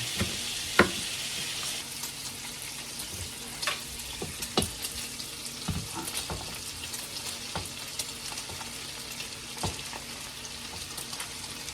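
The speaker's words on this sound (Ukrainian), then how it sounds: "Просто прожарюємо сало, додаємо тоді цибулю" Salo (pork fat) with onion frying in a pan, giving a steady close sizzle with scattered crackles and pops throughout, no voices.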